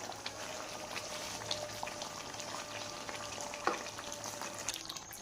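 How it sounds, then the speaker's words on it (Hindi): Chicken pieces frying in masala in a kadai for a shahi chicken karahi, a soft continuous sizzle and crackle with occasional small pops, faint and steady, no voices. "मसाले में चिकन को हमने 3 से 4 मिनट तक अच्छे से भूनना है"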